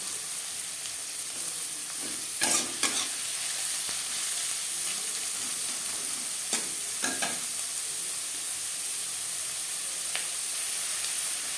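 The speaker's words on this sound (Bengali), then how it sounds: "কড়াইতে তিন চামচ রিফাইন্ড অয়েল গরম করে নিয়েছি এবার দিয়ে দেবো পেঁয়াজ কুচি" Chopped onion frying in three spoons of hot refined oil in a wok, a steady close sizzle and hiss with a few sharp stirring scrapes near the start and middle, no talking.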